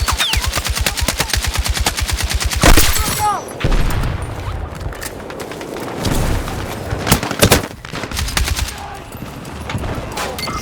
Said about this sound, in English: Head down! Taking effective fire!